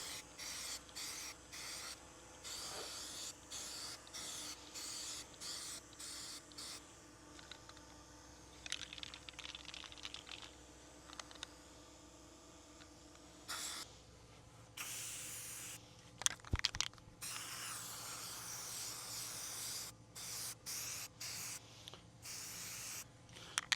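Black paint sprayed onto a scoter duck decoy in repeated short bursts, each a hissing blast with brief pauses between, plus some faint handling noise.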